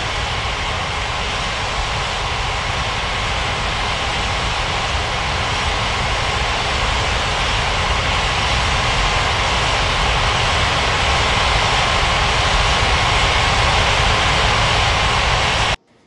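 An airliner's jet engines taxiing at Ngurah Rai Bali International airport in an air traffic control game, a loud, steady broadband roar that holds for about fifteen seconds, then cuts off abruptly.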